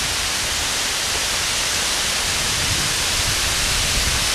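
Broadband rushing roar of a mountain waterfall (Slivodolsko padalo), steady and loud from start to finish with no other sounds.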